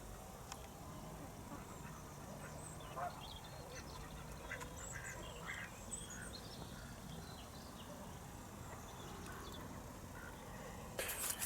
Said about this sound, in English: the ducks here are very friendly. They come right into your bivvy.